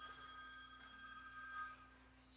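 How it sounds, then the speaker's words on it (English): A telephone rings during a church service, its repeated electronic trills sounding faint and steady over a quiet room hum, with no one talking. "pay attention, with a phone ringing and all."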